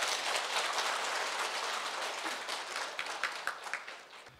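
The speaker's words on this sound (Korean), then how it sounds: "박수로 맞아주시기 바랍니다" Audience applause at a Buddhist broadcasting anniversary ceremony, steady dense clapping filling the room, gradually thinning toward the end.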